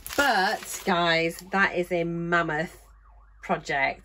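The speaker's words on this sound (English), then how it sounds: "Sorry about the siren in the background." An emergency siren wails faintly in the background, its rising and falling tone most noticeable in a short pause while a person talks indoors.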